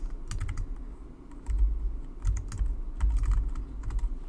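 Typing a file name on a computer keyboard, quick irregular bursts of key clicks close to the microphone, with short pauses between clusters of strokes.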